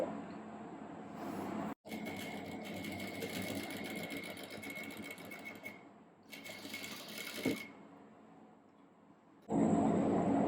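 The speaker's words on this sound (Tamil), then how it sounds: "இப்படி ஒரு ஸ்ட்ரைட்டாக ஒரு ஸ்டிச் போட்டுருவோம்" A sewing machine runs a straight stitch through fabric in steady, rapid bursts, pausing briefly twice before a final short run of stitching.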